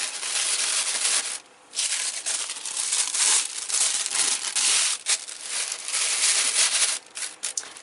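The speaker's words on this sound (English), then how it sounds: "I'm just going to take some tissue paper" Tissue paper crinkles and crumples in continuous bursts as it is stuffed into a handmade birthday gift bag, close and fairly loud with a few short pauses, no talking.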